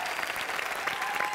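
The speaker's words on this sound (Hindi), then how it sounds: "तालियां।" Studio audience of a Hindi television comedy show breaking into steady, dense applause, a continuous wash of many hands clapping close and loud throughout.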